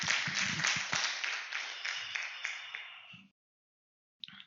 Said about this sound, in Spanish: Denle un aplauso a la palabra